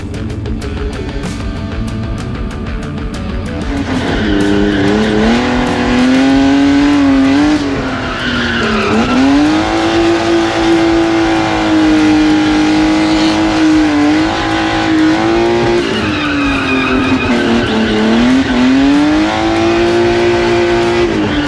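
A BMW E36 race car drives hard on a track, its engine droning loud and continuous as it revs up and down through gear changes, with tire squeal mixed into the sustained roar and no voices.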